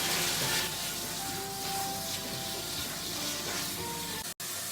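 Chicken pieces with ginger paste frying in oil for Chinese-style shashlik, a steady dense sizzle holding evenly throughout with faint clinks, cutting out briefly near the end.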